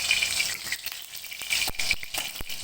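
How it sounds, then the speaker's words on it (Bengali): A whole dry red chili and a little black cumin sizzle in hot mustard oil, a bright crackling fry with sharp pops and spits scattered through the short stretch. "ফোড়নে দিয়ে দিব গোটা একটা শুকনো লঙ্কা আর সামান্য কালো জিরে"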